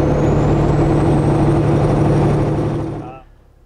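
A loaded semi-truck engine drones loud and steady with non-synchronized gears being worked, the engine note dropping away near the end as the truck is shifted down a gear.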